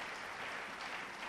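A church congregation applauds in a dense, continuous wash of many hands clapping, steady and fairly distant for a brief moment.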